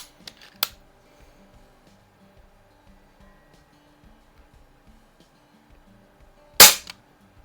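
Two sharp, loud shots from a Umarex Notos air rifle during chronograph testing, one early and one near the end, separated by several seconds of quiet background.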